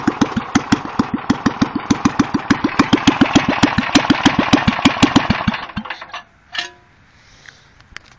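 A small Jacobson engine cold starting, a loud close rapid train of regular firing pulses for several seconds that then sputters and fades, followed by a lone pop and quiet.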